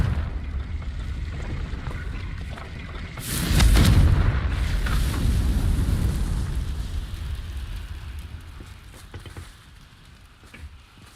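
In Hogwarts Legacy, the Confringo explosive spell lands as a single heavy boom with a deep rumbling burst that slowly fades into a low roar over several seconds.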